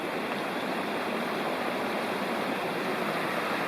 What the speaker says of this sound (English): this is the really beautiful, bigger than I thought, Jakes Creek